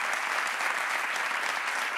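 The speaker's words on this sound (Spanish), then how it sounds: "un aplauso para él." Steady applause from a television talk show studio audience, a dense patter of clapping hands that continues without a break.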